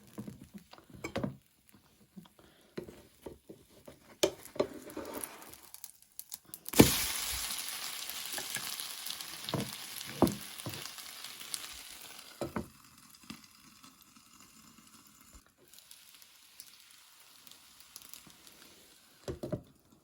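Soft sizzling and crackling of a thin pancake frying in a pan, with scattered taps and scrapes, a brief louder burst of hiss midway, then quieter frying.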